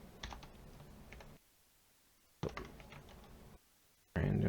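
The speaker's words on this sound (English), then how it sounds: "I am so bad at typing sometimes." Bursts of typing on a computer keyboard sound close and quiet, with rapid key clicks in short runs separated by pauses, while the typist works on coding a Tetris game.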